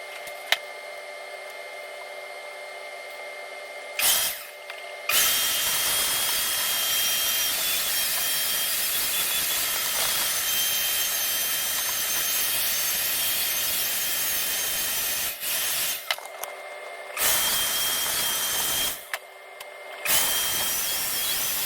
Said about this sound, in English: I'm gonna get vacuuming